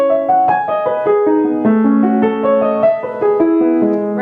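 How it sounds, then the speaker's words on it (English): Piano triplets each played with heavy arm weight dropped into the bottom of the key, giving a steady run of evenly accented, full-toned notes with no talking. "If I were to drop my weight into the bottom of the key on every triplet, it would sound like this."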